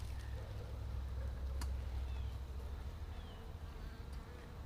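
Honey bees buzz steadily around an opened hive during an inspection, a dense, continuous low drone close by, with a short sharp tap partway through and no talking.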